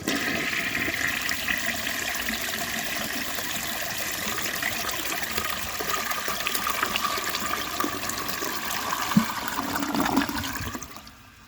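A 1948 Kohler Brooklands toilet flushes a washcloth: a continuous rushing, gurgling gush of water running for about ten seconds before trailing off at the end, with no talk.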